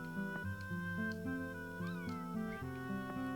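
A cat in the video game Chrono Cross meows against steady synthesized game music with sustained tones and shifting chords, with no voices present.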